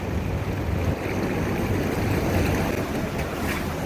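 Steady broadband roar of ocean waves washing onto a beach, with wind buffeting across the microphone throughout, loud and continuous with no voices.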